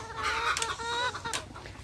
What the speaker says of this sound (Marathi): तर असं हे कोंबड्यांचं शेड आणि हे कोंबडे आहेत